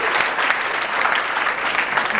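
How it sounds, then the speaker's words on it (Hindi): An audience at a motivational lecture breaks into loud, sustained applause, dense steady clapping filling the room without a break. "जोरदार तालियां शीला के लिए।"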